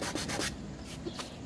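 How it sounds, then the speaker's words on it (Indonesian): Grade 120 sandpaper rubs by hand over a damaged spot to level it, giving repeated close, scratchy back-and-forth strokes at a steady pace. "langsung saja kita amplas dengan amplas grade 120 biasanya saya"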